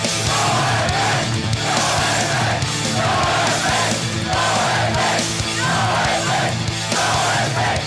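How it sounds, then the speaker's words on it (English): A crowd of around a hundred kids chanting and screaming in a hotel lobby while waiting for a punk band, a loud, dense, continuous roar of yelling voices with rhythmic surges of chanting. "you could hear these kids chanting and screaming"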